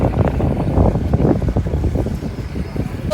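A houseboat moves across open water, giving a steady low rumble of hull and engine with constant wind buffeting the microphone throughout.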